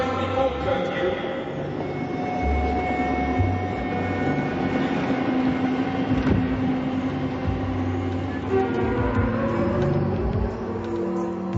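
Train passing as a radio drama sound effect, a sustained rumbling, clattering roar with shifting tones that holds steady and loud, with faint voices beneath.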